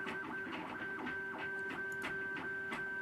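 A 3D printer finishing a print-in-place fidget cube, with a steady whine and stepper-motor tones under rhythmic whirring pulses of the moving print head, loud and continuous with no talking.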